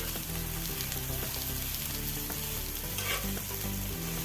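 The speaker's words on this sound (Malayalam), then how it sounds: "അതെല്ലാം കൂടി തിരിച്ചിട്ട് കൊടുത്ത് ഉള്ളിയെല്ലാം ഒന്ന് വാടി വരുമ്പോൾ" Onions sautéing in a pan for a chutney served with ragi dosa, a dense continuous sizzle with soft stirring scrapes throughout, steady and close with no talk.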